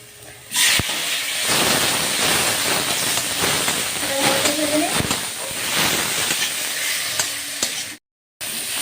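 Chopped tomatoes frying in a pan with turmeric and chilli powder for restaurant-style palak paneer: a loud, continuous sizzle and hiss with stirring scrapes, recorded up close.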